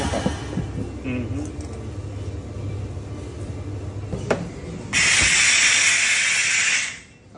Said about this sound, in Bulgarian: Да, натискаш вода с пара.